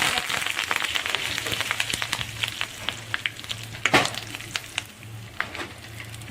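Curry leaves with mustard seeds and asafoetida crackling in hot oil in a kadai, a dense close sizzle broken by rapid sharp pops and spits, one louder burst near the middle, no talking.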